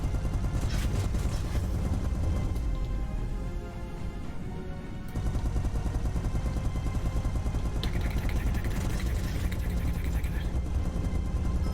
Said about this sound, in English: I know the explosions are different